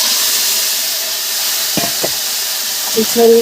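Yogurt-, oil- and salt-marinated chicken meets hot oil for a Bengali chicken curry, giving a steady close hiss with a few sharp spits and clatters near the end.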